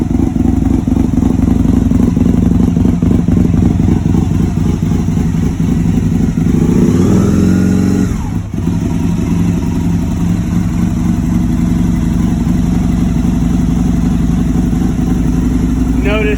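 A Nissan engine sits at a loud, close idle just after a cold start, running with a slightly uneven, lopey pulse and a brief dip midway.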